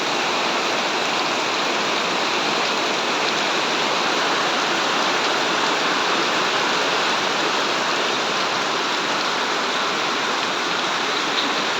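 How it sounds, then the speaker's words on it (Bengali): Dense, steady downpour with a constant broadband hiss and no pauses, loud and close throughout, with no voices. "পুরা বৃষ্টি পড়তেছে পুরা"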